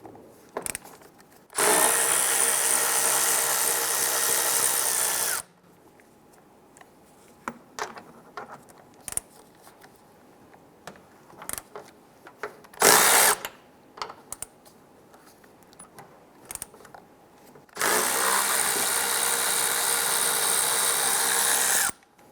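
Socket wrench with a 13mm deep socket loosening the strut tower nuts on a 2005-2010 Chrysler 300: three long bursts of loud, dense ratcheting with quiet scattered clicks and handling noises between them, and no voices.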